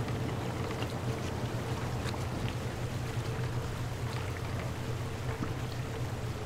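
A boat glides across water in the puzzle game The Witness, a steady low engine-like hum with soft continuous water wash and faint scattered splashes, no talking.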